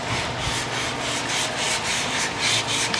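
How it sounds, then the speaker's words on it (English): Sandpaper rubbed by hand over body filler on a car panel, rounding the edges. It makes a close, steady rasping sound in repeated back-and-forth strokes, with no talking. "now he's using the sandpaper to round those edges over there evenly"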